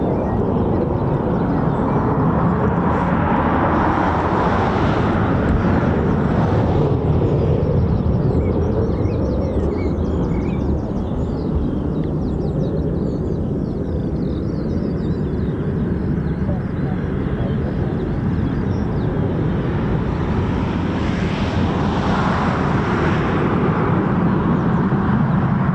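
An F-35B stealth fighter jet flies past at an air base, its broad engine roar swelling, easing, and building again over about 25 seconds, with voices talking faintly beneath it.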